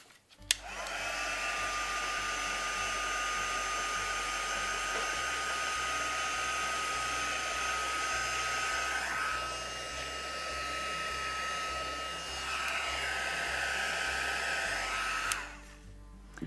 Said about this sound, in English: we're going to give it a good heat set